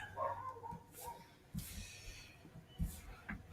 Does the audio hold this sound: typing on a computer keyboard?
no